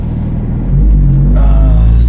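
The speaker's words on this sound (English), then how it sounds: "right now we're having a little bit of a drive in this gorgeous GT3" A Porsche 911 991.2 GT3 rumbles while driving, a steady low engine drone that swells louder partway through and holds, with no one talking.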